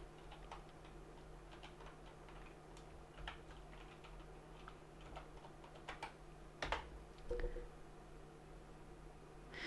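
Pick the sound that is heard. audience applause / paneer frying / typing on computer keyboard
typing on computer keyboard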